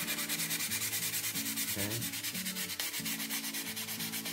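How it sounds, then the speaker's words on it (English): Steady rhythmic sanding of model rocket fins smooth, a close, even rasping stroke repeated back and forth, with no talk over it. "sand down our fins till we get a nice smooth finish"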